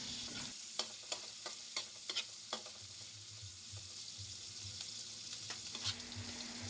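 Garlic sautés in a pan with a steady, fairly quiet hiss, broken by scattered clicks and scrapes of a utensil stirring it, heard alone without speech.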